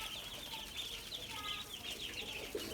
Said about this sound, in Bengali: 200 হাঁসের বাচ্চা দিয়ে শুরু করলাম খামার, ছোট্ট খামার।